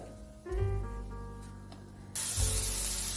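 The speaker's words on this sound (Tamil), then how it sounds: "அதுக்கு எண்ணெயை காய வச்சுருக்கேன். இதில் வந்து ஆனியன் சேர்த்துக்கிறேன்." Onion hits hot oil in a pan, and a hissing sizzle builds quickly and ends in a loud, broad spray of frying at close range, with no talking.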